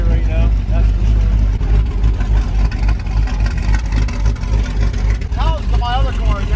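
A Camaro ZL1 engine roars and rumbles loudly and continuously nearby during street tuning, with people talking over it throughout.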